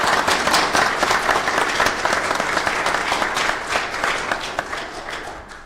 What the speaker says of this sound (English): I would just ask we give him a round of applause.